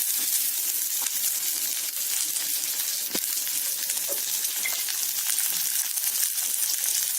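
Small peeled onions sauté in hot oil in a clay pot for a village-style fish curry, giving a continuous close crackling sizzle with occasional sharp pops and light stirring scrapes.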